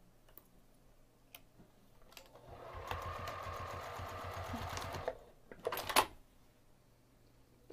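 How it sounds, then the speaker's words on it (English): A sewing machine stitching bag handles, a quiet rapid mechanical whir of running stitches for about two seconds, preceded by scattered small clicks and followed by handling noises. "So I'm going to take this over to the sewing machine and sew the handles where they're pinned using an eighth of an inch seam allowance."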